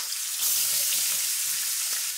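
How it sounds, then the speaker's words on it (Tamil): Chopped onions frying in hot oil in a pan, a continuous close sizzle that swells slightly as they hit the oil, with faint stirring ticks. "3 பெரிய வெங்காயம் பொடியாக நறுக்கினது,"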